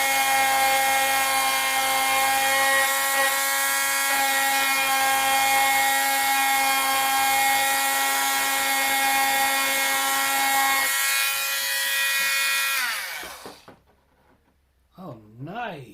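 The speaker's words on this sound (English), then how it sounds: "If I can actually sharpen the blade." A blade being sharpened by sanding, a steady loud whining grind with strong tonal ringing that holds for about thirteen seconds, then cuts off abruptly, followed by brief faint sounds near the end.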